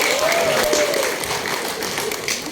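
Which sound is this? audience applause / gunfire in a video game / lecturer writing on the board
audience applause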